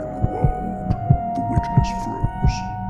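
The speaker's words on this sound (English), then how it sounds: "heart pounding" A heartbeat effect in a horror narration thumps in slow, regular double beats, deep and prominent, over a low steady hum with faint breathy sounds.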